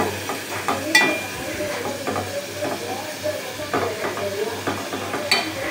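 Boneless chicken frying in a pan, a continuous hissing sizzle with repeated stirring scrapes and occasional clinks of a utensil, close and fairly loud, with a low hum underneath.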